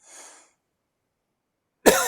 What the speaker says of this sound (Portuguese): vou tossir um pouquinho, desculpa aí, tá?